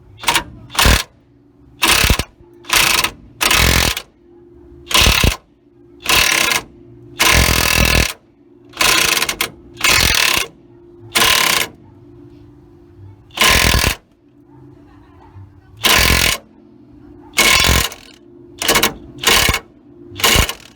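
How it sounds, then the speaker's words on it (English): A ratchet with a 15/16 socket tightens the upper control arm bolt on a 2000 Ford Ranger. It makes repeated bursts of fast metallic clicking, each lasting about half a second, separated by short pauses and sounding close and loud, with no speech. "we're gonna bolt back on using the 1516 socket"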